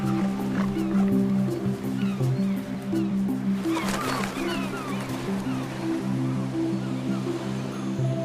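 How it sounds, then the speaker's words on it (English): Harbour seals and sea lions fighting over space on a rock in the open ocean give off a steady chorus of deep, roaring barks and growls, with ocean wash behind them and a louder burst of calls partway through. "That's where harbour seals and sea lions like to rest and fight for the best spots."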